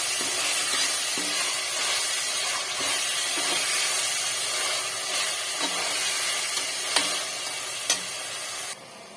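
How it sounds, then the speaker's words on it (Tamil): Tamil coconut milk rice ingredients being sautéed in a pan with sea salt added, giving a steady broad sizzle and hiss with a few soft scraping stir knocks, close and continuous until it cuts off near the end. "இதை நல்லா கொஞ்சம் வதக்கிக்கலாம்"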